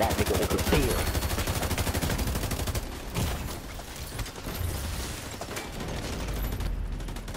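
Rapid automatic gunfire in The Division 2 online multiplayer, a dense close burst of shots for the first few seconds, then more scattered shots and continued firing at a lower level.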